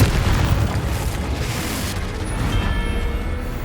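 Confringo spell blast in Hogwarts Legacy, a loud, sustained booming explosion roaring for several seconds without letup, with no voices over it.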